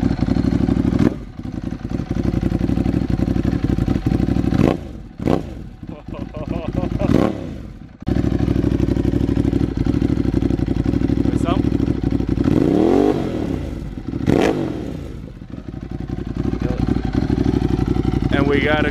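A Ducati Monster with a Mivv aftermarket exhaust idles loudly up close and gets blipped repeatedly, several sharp revs rising and dropping back between stretches of rough, throbbing idle.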